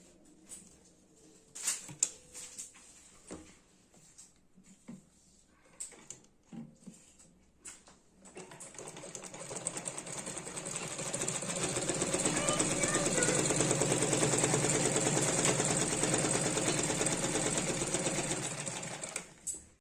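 A Merritt sewing machine runs steadily for about twelve seconds, a close, continuous whirring stitch that builds up after some scattered handling clicks and knocks at the start.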